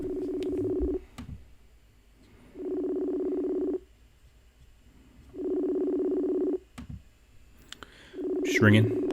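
A phone ringback tone repeating in long, even bursts separated by pauses, heard through a handset, with a brief voice near the end.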